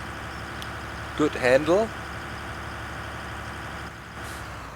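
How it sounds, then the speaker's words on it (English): An URSUS tractor engine in Farming Simulator 2013 hums steadily at a low idle throughout, while someone briefly talks over it partway through. "Nice engine sounds."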